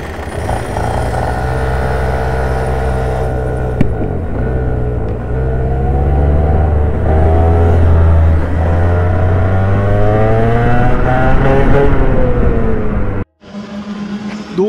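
Racing kart engines buzz loudly and continuously during a kart race for the Trophée Oscar Petit 2022, pitch rising and falling as they accelerate and brake, with a sudden cut near the end.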